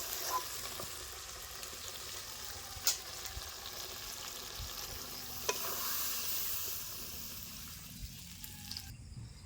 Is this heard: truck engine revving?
no